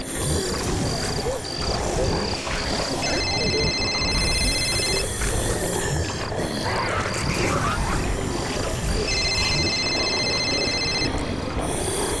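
Telephone ringing during a phone call, repeated electronic ring bursts sounding twice over a loud, dense background of croaking and roaring animal noises, with no talk.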